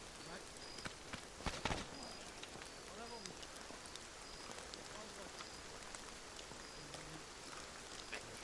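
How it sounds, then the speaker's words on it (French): Rain in the military video game Arma 3, a faint, steady patter of drops on surfaces with a few louder knocks, while people talk quietly over it. "C'est la pluie."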